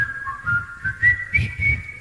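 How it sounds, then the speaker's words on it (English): A group of people whistle a tune together in unison at a live show, rising and falling melodic whistles with breathy, wind-buffeted bursts on the microphone. "you try and whistle into a microphone and the wind hits it and comes back"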